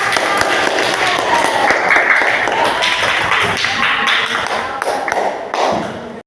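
Pupils in a classroom clap together, a dense patter of hand claps running throughout with voices mixed in underneath.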